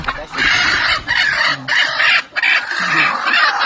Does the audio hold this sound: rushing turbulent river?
no